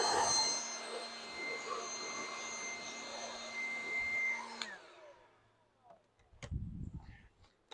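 A leaf blower roars steadily as it blows bees out of honey supers, then shuts off and winds down, leaving a few thumps and handling knocks close by.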